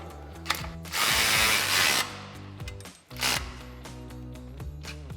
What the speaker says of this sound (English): Then we can tighten down the two nuts on our U-bolt for our main bracket, again with our 14mm socket.